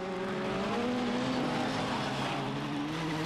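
Rallycross cars, including a Ford Fiesta, race at Lydden Hill in the 1997 British Rallycross Championship: a loud, dense engine roar with rising and falling pitch, held steadily close by, under a faint voice.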